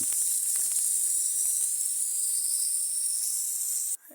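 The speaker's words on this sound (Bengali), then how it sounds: "আর এবার 4 পিস মাছের মাথা ভেজে নেব।" Japanese punti fish heads fry in hot oil with a steady, bright, close sizzle and a few faint ticks and pops, then the hiss cuts off abruptly just before the end.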